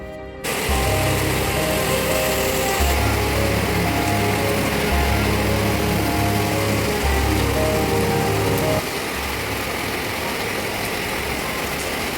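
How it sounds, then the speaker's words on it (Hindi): Heavy rain pours down steadily outdoors in Bangalore, a dense loud hiss that never lets up, with a low rumble of traffic or engines underneath. "बाहर जाके कितनी तेज़ बारिश हो रही है बैंगलोर में।"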